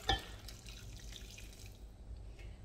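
Water pours into a cooking pot holding beef for a Cameroon-style meat stew, starting with a brief splash and then a steady, fairly quiet trickling stream that fades out near the end.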